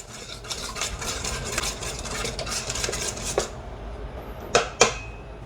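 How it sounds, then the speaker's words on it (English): Brussels sprouts being stirred in a pan with sriracha and soy sauce: a steady run of close scraping and clinking utensil strokes, then a pause and two sharper metallic taps near the end, with no talk. "Stir it up."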